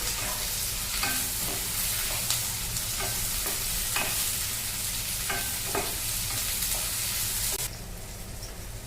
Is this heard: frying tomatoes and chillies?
yes